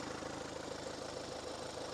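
A Kia Sorento 2.2 diesel with AWD and an automatic gearbox idles steadily nearby, giving a continuous, even low rumble with a fine regular knock and no break.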